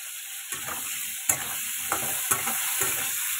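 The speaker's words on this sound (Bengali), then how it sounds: "আলু আর সয়াবিনটা ভেজে নেবো।" Potatoes and soybeans frying in plenty of oil in a wok, a continuous bright sizzle with occasional stirring scrapes and clinks, close and moderately loud, no talking.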